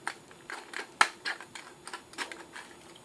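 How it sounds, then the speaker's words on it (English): Quick, crisp snips of scissors cutting through soft carbon felt, close by and in an uneven rhythm of about a dozen cuts, with no talking. "take a pair of scissors and just cut down to your line"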